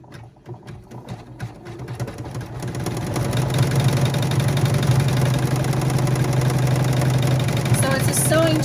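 An embroidery machine runs a carry stitch through vinyl: rapid needle ticks start quietly and build into a steady, loud mechanical whirring hum that continues to the end.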